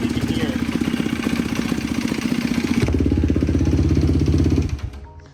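A Yamaha YFZ450 quad engine runs close and loud with a fast, rough, clattering idle pulse, shifting to a heavier beat near the middle before cutting off abruptly near the end.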